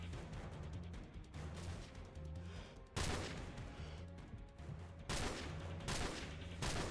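Gunfire in Call of Duty 4 during a speedrun, dense rapid bursts of shots with loud sharp cracks at intervals, continuous and close.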